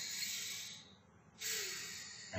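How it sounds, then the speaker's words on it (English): A patient's deep breath during a respiratory examination: a soft, airy hiss of inhalation, a brief quiet pause, then a second breathy rush of exhalation, close and alone without talk. "could you take a deep breath in and out for me?"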